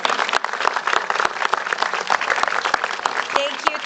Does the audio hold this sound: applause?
yes